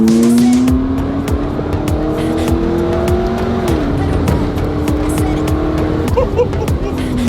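A supercar, one considered as a replacement for an Audi R8, launches hard from a standstill with a loud, rising engine roar through rapid paddle upshifts, each marked by a brief drop in pitch, heard from inside the cabin.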